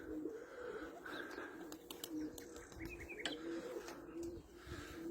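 Domestic flying pigeons coo softly in low repeated calls amid faint chirps and light fluttering, quiet and somewhat distant, during a training flight in 30-degree heat.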